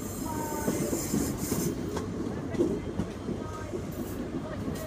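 A Class 365 electric train rumbles and clatters with squealing wheels as it pulls away from platform 2 at London Kings Cross, a steady mechanical roar with faint voices in the background.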